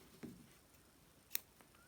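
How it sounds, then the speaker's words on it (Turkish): Scissors snip crochet yarn in a quiet room, a soft cut early on followed by a sharp click, with no talking. "Şimdi ipi kesiyorum."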